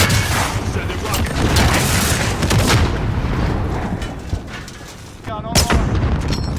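Rockets and gunfire boom and crack in a dense, loud barrage during Warzone gameplay with a GRAU loadout, overlapping bursts continuing throughout over background game noise.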